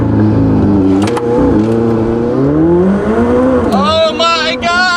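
A McLaren 600LT supercar accelerates hard, close and loud, its engine note climbing steeply through the gears with a sharp rise near the end.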